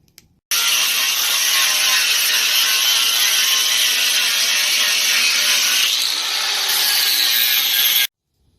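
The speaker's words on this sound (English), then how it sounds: "We're about to grind all of this down" An angle grinder grinds down metal in the engine bay of a BMW E36 during a wire tuck and bay shave, one loud, steady, harsh whine lasting about seven and a half seconds alone.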